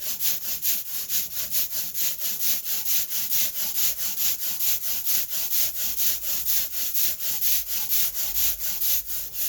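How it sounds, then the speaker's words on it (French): Rubber ink roller rolled back and forth over printing ink on a marble slab, a rhythmic, sticky hissing rasp repeating about twice per second, close and steady with no speech. "Je mets de l'encre sur mon marbre, je l'étale. Et je prends mon rouleau encreur."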